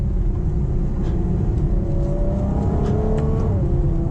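A Ferrari FF's powerful V12 engine drones and builds steadily as it accelerates, a continuous loud rumble with rising tone from inside the car.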